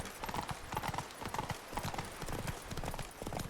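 Hooves of Roach, the horse in The Witcher 3: Blood and Wine, clip-clopping in a quick steady gallop rhythm, close and fairly quiet, with faint background ambience and no talk.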